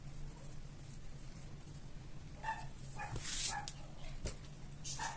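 Faint, far-off dog barks, a few scattered yaps over a low steady background hum, with a brief sharp clink near the middle.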